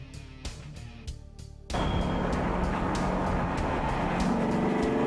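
A Maserati 3200 GT Spyder's engine starts faintly under a steady hum, then swells abruptly into a loud, sustained roar that continues without a break; no one speaks.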